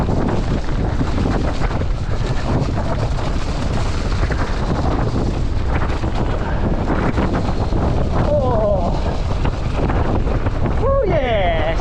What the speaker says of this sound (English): Oh, the wind's funneling through here.